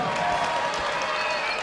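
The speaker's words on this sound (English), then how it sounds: "good pop from the local crowd" A local wrestling crowd in an arena cheers and applauds in a dense, steady roar, with a commentator's voice faintly underneath.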